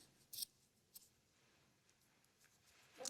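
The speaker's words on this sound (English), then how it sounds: "I'm going to take the ends and tie a knot. And cut the ends." Scissors snip through the yarn ends of a small crocheted snowman plush, giving two or three quick, faint clicks spaced across a quiet moment with no talking.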